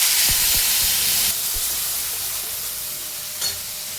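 Ginger, garlic and green chilli paste dropped into hot oil, a loud broad hiss and sizzle that starts strong and slowly settles, with a couple of faint stirring taps.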